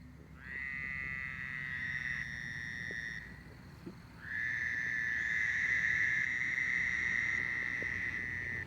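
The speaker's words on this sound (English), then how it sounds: "I'm going to do a frog pond reading. This is the frog pond behind me." Frogs call from a pond at night in two long, loud, steady trilling bouts, the first fading out around three seconds in and the second starting a second later and running to the end, with a faint low background rumble.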